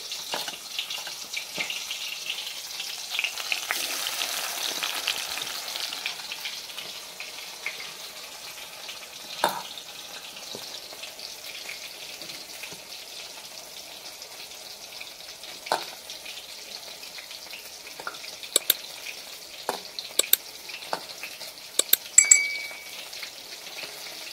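Banana flower kofta balls fry in hot oil, a quiet continuous sizzle with occasional clinks of a utensil against the pan and a few sharp taps toward the end.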